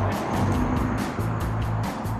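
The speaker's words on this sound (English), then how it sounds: "there's a truck driving by" Truck on noisy tires driving past, a close, loud rumbling tire roar with a rhythmic pulsing pattern that holds steady throughout, with no talking over it.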